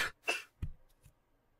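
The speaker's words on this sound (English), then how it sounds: "Did he just cough?" A man coughs two or three times in quick succession in the video game Ib, close and fairly quiet, followed by a softer throat sound.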